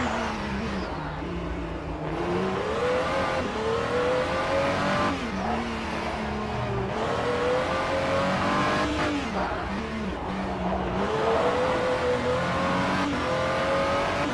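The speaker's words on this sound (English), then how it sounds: "Switching to Daniel Kirby's on board in the number 930 Peugeot 9X8 Evo." From the cockpit of a Peugeot 9X8 Evo hypercar in a virtual sportscar race at Long Beach, the engine screams steadily through repeated rising gear pulls and short lifts, with some tire squeal.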